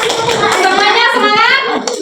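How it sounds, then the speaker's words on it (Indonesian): Students in a classroom clap their hands together briefly at a teacher's prompt, a busy, close burst of claps mixed with children's voices and chatter throughout. "Tepuk tangan."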